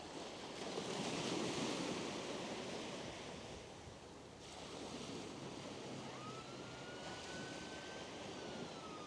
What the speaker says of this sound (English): We can hear the sea. Listen. Oh, it's so dreamy. The tide's coming in.